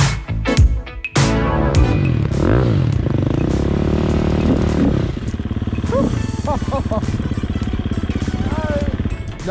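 A repaired motorcycle's engine runs steadily on a test ride, its droning rumble loud and continuous throughout, with a few shifts in pitch as it picks up speed.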